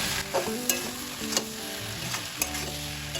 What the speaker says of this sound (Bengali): এবার সব কিছু ভালোভাবে তেলের সাথে মিশিয়ে নেব